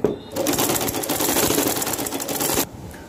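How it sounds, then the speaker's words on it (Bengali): A sewing machine runs steadily for a long baby yoke frock seam, its rapid rattling stitches loud and close, starting just after a brief pause and stopping abruptly near the end. "আমি এখন এই যে বড় বড় করে একটা সেলাই দিয়ে দিব।"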